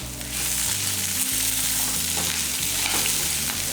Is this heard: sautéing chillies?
yes